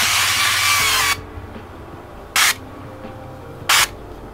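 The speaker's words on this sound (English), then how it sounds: "We'll use some little canola oil right here, a little spray," Canola oil non-stick cooking spray hisses from a can in one long burst lasting about a second, followed by two short bursts, all close and loud over a quiet kitchen background.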